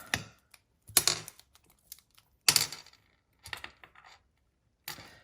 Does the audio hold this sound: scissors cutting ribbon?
yes